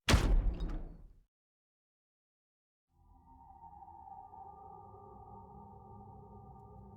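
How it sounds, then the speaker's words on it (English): A door opening in the video game Virtue's Last Reward: a sharp burst fades out, then after a silent pause a steady, droning mechanical hum with a ringing tone holds at moderate loudness. "the last door finally opened"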